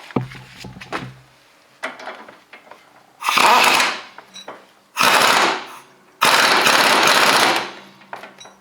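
Impact wrench spinning a 19 mm nut on the front end of a 2011-2016 Hyundai Elantra during sway bar end link work, three loud, harsh rattling bursts of about a second each, separated by short pauses.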